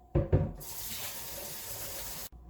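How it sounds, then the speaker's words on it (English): Hot water runs steadily from a tap into a basin for a couple of seconds, after a couple of short knocks, then cuts off abruptly. "now I will fill the hot water from the tap"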